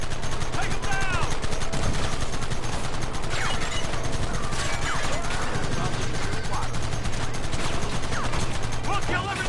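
Dense machine-gun and rifle fire crackles throughout a wagon chase in Red Dead Redemption 2, loud and continuous over rumbling wheels, with shouting voices mixed in.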